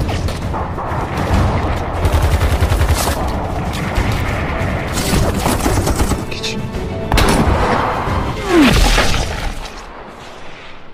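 Gunfire crackles through a film firefight as Turkish special forces clash with an ISIS group; rapid bursts of shots and booms overlap with music and effects for the whole stretch, loud and dense.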